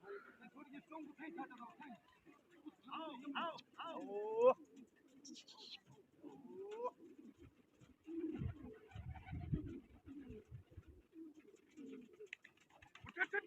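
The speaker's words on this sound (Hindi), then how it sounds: "दोबारा कबूतर उड़ रहे हैं ना" Pigeons coo in low, throaty bursts among scattered chirps, with muffled rustling and flapping-like thumps and some background voices.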